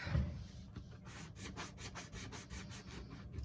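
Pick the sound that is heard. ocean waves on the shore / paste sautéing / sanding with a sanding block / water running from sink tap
sanding with a sanding block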